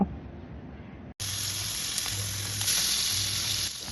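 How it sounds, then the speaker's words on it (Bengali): Turmeric-and-salt-rubbed pomfret fish pieces hitting hot oil, with quiet background hum giving way to a sudden loud, steady sizzle that swells slightly as more pieces go in. "এবার আমি ওই মাছের পিসগুলোকে হলুদ নুন দিয়ে মাখা সেগুলো একটা একটা করে তেলের মধ্যে ছেড়ে দেব ভাজার জন্য"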